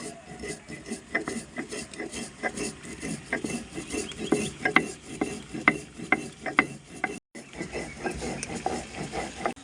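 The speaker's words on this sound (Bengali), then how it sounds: "এখানে আমি ধনে আর জিরে একসঙ্গে গুঁড়ো করে নেব" Coriander and cumin seeds are ground together, giving a quick, uneven run of scraping, clattering grinding strokes at close range, with one brief pause partway through and nobody talking over it.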